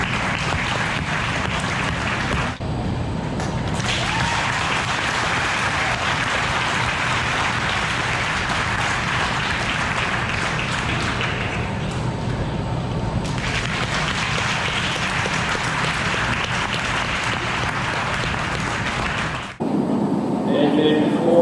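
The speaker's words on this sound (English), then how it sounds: "Let's give them all a real nice round of applause." A crowd at the Champaign County Fair in Urbana, Ohio claps for the champion and reserve champion feeder steers in the arena, a steady, dense applause that carries on for nearly twenty seconds before stopping abruptly.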